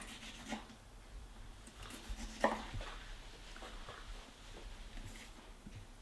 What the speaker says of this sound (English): we just finished dicing 3 small or medium-sized Roma tomatoes